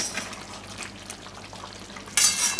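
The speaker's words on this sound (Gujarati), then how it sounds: "થોડીક વાર આમાં ઉકળવા દેવું, એકાદી મિનિટ માટે" Mixed dal vadi gravy simmering in a pot for a Gujarati shaak, a soft steady bubbling and hiss with occasional stirring clinks, growing briefly louder near the end.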